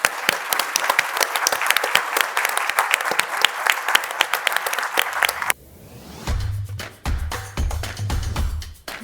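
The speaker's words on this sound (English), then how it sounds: "can I have a round of applause for all the startups?" A large indoor audience claps loudly and continuously for startup founders at a tech pitch event. Dense overlapping hand claps give way after about five seconds to thinner, scattered clapping under low rumble and a murmur of voices.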